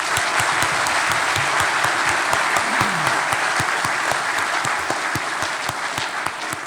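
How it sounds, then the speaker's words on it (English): Enthusiastic crowd applause at a family history event, dense sustained clapping with distinct sharp claps standing out near the microphone and a faint voice briefly underneath. "round of applause for the two Pats"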